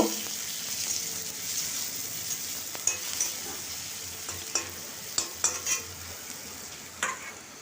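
Crushed garlic and a split green chilli frying in oil in a pan, a steady close sizzle with scattered clinks and scrapes of a spatula stirring through it, no voices.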